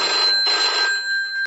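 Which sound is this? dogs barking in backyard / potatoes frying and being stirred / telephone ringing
telephone ringing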